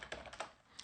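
Keys clatter on a computer keyboard while commands are entered in a terminal during a VPN server setup, a quick irregular run of soft clicks in small bursts, close and quiet with no voices.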